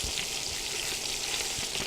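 Pork chops fry steadily in a hot pan, a dense, continuous sizzle and crackle held at an even level throughout, close up with no talking.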